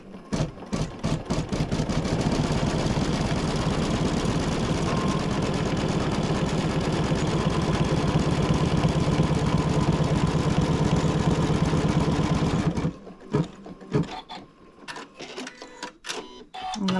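An embroidery sewing machine top stitches a set of dog poop bags, a loud, steady rapid needle chatter running continuously for about twelve seconds before stopping, leaving quieter clicks and machine sounds.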